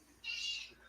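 A house cat annoyed by a new puppy lets out a single short, high meow at moderate distance, faint against a quiet room background.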